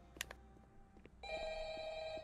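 A telephone rings steadily in the Roblox horror game Five Nights at Freddy's, a bright sustained electronic tone that starts partway through after a few brief clicks and knocks, loud and unbroken to the end.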